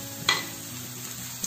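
Chopped onion fries in hot coconut oil in a pan, a soft, low sizzle with one brief scrape of stirring near the start and another near the end, no talking.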